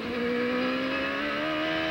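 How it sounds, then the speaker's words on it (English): A 1995 CART Champ Car race car at Portland screams past at racing speed, its engine note holding a steady high whine that slides slightly as it passes, loud and continuous with no talk. "Danny Sullivan is the car behind him trying to catch Gordon."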